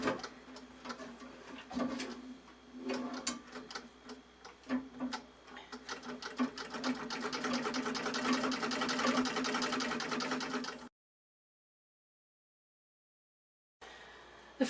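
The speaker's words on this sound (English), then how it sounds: "get the wheel spinning and then start pumping with your foot." A vintage treadle sewing machine runs with its wheel spinning, a fast rhythmic ticking and clatter that builds into a dense whir, then stops abruptly before a short burst returns.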